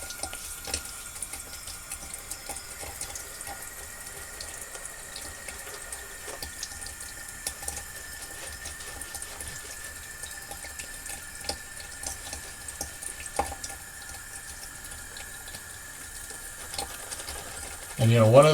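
Tap water runs steadily into a bathroom sink during a wet shave with a GEM 1912 safety razor, a constant close hiss and splash for the whole stretch, ending with a brief louder rustle.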